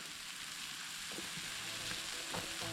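Steak sizzling as it cooks over an open fire, a constant close hiss of frying with a few soft pops and crackles toward the end, no voices.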